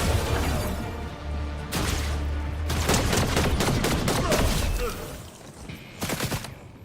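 Rapid gunfire from the video game Fortnite, loud bursts of repeated shots and crashes one after another, close and dense with little pause.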